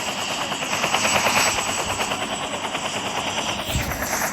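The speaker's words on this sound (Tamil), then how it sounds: "ஹெலிகாப்டரில் ஏறிக்கலாம்." A video game helicopter gives a steady, loud rotor chop that runs throughout alongside dense rattling gunfire, with no talking.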